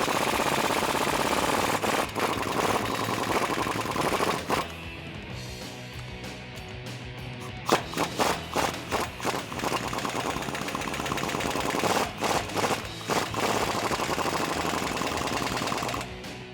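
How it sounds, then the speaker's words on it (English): Bursts from a 21mm impact wrench work on lower control arm bolts of a Jeep Wrangler TJ, loud rattling hammering in several runs with short pauses between, no talk. "I'm using a 21mm impact and a 21mm wrench, and I'm removing the lower control arm from the bottom"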